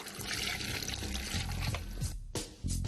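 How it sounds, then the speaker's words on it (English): Water gushes steadily into a cast iron pot filled almost to the top outdoors in snowy country, a loud continuous pour with brief changes in flow and faint voices underneath. "fill it with water"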